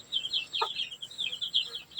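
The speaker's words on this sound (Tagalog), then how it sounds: "Punta tayo sa aking mga inalaga na mga manok mga idol" Backyard chickens keep up a quick, high chatter of clucks and peeps in a steady pulsing rhythm, moderately faint, with one lower cluck cutting through briefly and no speech.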